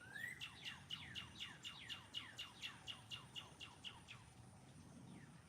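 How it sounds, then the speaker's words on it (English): Many wild birds calling outdoors, a rapid series of a dozen or more high chirps in an even rhythm, fairly faint and distant, then fading off, with no talk. "I hear a lot of other birds calling."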